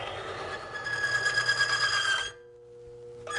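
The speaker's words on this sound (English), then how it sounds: "We'll turn this on, and you'll see the oil flinging from the roller." A one arm bandit oil tester spins its roller through Mobil 1 oil, giving a steady whirring, mechanical whine for over two seconds before cutting off abruptly, then a quieter hum with a brief restart at the end.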